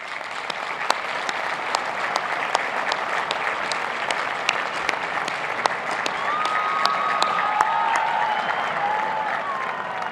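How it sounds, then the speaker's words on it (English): Large crowd at the University of Virginia Class of 2021 graduation ceremony gives a sustained round of applause, broad and even, swelling slightly toward the end with a few faint shouts. "I ask that you join me in a round of applause to thank them."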